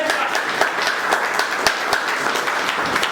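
An audience at a field leaders' meeting claps steadily, a dense, continuous wash of applause from a crowd of hands, fairly loud and without talk over it.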